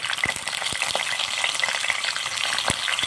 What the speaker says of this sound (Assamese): পটলখিনি ফ্ৰাই কৰি ল'ম